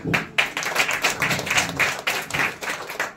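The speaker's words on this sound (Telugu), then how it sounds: "చప్పట్లు కొడదాం." A church congregation claps together during a Telugu Christian sermon, a dense, steady burst of many hands filling the room for about three seconds, with no talking over it.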